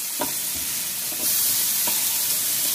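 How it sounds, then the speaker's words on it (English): Green peppers and onions sear in a hot pan, a steady close sizzle and hiss running throughout, with a few soft scrapes of stirring. "just let these vegetables sear off to my liking"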